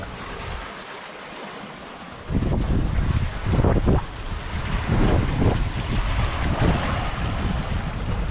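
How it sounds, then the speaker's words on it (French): Ocean waves and wind at sea aboard a sailboat on a passage to Mindelo, Cape Verde, a steady broadband rush that swells louder partway through, with no voices. "Voilà comme je t'aime, monsieur l'océan. Comme ça, avec du vent."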